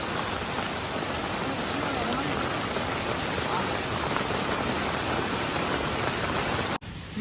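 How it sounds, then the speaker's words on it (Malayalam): Steady, dense heavy rain pours continuously at a waterfall, a broad hiss of downpour filling the scene without a break until a brief dip near the end. "ഇവിടെ വന്നപ്പോൾ നല്ല പൊളപ്പം മഴ"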